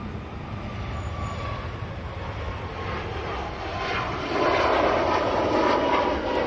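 A Ryanair Boeing 737 MAX 8 departing Manchester Airport for Almeria makes a broad, distant jet roar that slowly builds louder toward the end.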